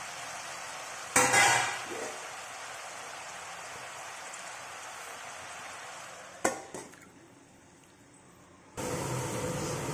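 Chilli leaves and fenugreek leaves fry in a pan with a steady, soft sizzle, punctuated by two sharp clattering stirs and a louder burst of crackling near the end.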